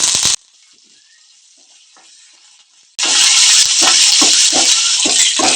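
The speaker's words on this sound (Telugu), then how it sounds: "కొంచెం కరివేపాకు వేసుకుందాం." Curry leaves dropped into hot oil for a tempering of dried red chillies and cumin, bursting into a loud, sudden sizzle after a quiet pause, with sharp crackles and spits near the pan.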